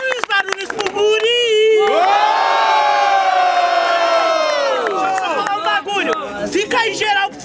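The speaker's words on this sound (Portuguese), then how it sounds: "Quem gostou das rimas do Yoga faz muito barulho." A large crowd at the grand final of a Brazilian freestyle rap battle in Guarulhos, São Paulo, erupts in loud sustained cheering and shouting, with an MC's voice calling out over the noise before and after.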